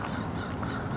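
Geese honking as they take flight, a dense cluster of calls heard briefly at moderate distance over outdoor background noise.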